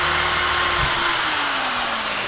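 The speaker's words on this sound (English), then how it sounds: "The heat of the drilling is melting the putty" A power drill boring pilot holes for a ceiling fan install, a loud continuous high whine with a slowly sliding pitch, steady and close throughout.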